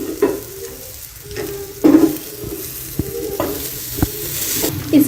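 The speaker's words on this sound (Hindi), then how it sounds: "अब मैं इसे अच्छे से प्रेस करूंगी ताकि मिक्सचर इस पर अच्छे से लग जाए" An egg paratha frying on a hot pan while being pressed down, a close sizzle broken by several sharp scraping and pressing knocks at uneven intervals, no voices.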